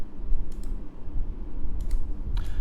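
A few sparse key clicks on a computer keyboard come in small clusters, close and moderately loud over low room rumble.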